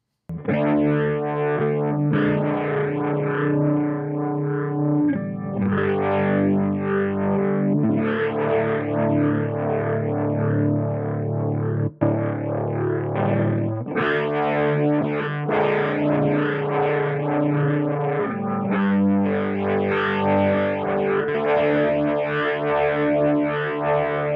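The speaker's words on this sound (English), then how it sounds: "Mode 3 is the same as Mode 2, but with a distortion modeled off of a Marshall 1959 Super Lead" Electric guitar chords through a rotary effect with distortion modeled on a Marshall 1959 Super Lead, thick and overdriven with swirling, wobbling modulation, sustained and loud throughout.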